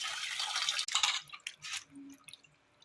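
Fish is rinsed and scraped clean in water, with close splashing and trickling that ends in a few soft drips as it fades, and no talking.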